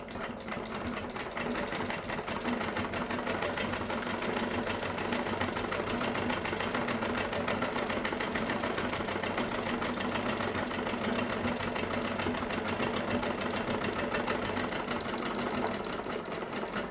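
A sewing machine stitches a 13-inch zip onto fabric for a tiffin case, running in a fast, steady mechanical chatter at moderate loudness for the whole stretch, alone and without talk.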